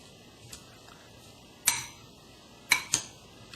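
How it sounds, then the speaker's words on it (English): A spoon mixes fresh pico de gallo in a bowl, giving a few sharp clinks against the bowl over quiet, wet stirring, close by and with no talk. "all you have to do is mix it, and it's done"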